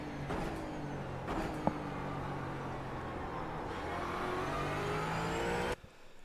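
Ford Mustang GT4 race car in the iRacing sim at Brands Hatch, engine steadily climbing in pitch under throttle as it heads downhill, a continuous near whine that cuts off abruptly near the end.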